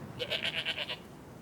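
A goat gives a short, plaintive bleat, a quick wavering run of about seven pulses, faint and close.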